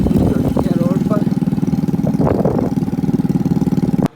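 A motorcycle engine running steadily nearby, a loud, fast, even chugging pulse that continues for about four seconds before cutting off abruptly, with brief voices in the background.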